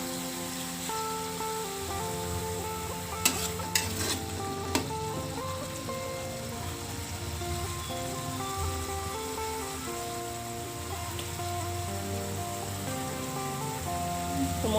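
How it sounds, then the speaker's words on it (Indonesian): Spice paste with bird's eye chilies sautés in a hot pan, a steady close sizzle running throughout, with a few sharp clinks of a utensil and background music underneath. "setelah panas kita tumis bumbunya. Masukkan cabai rawitnya tadi."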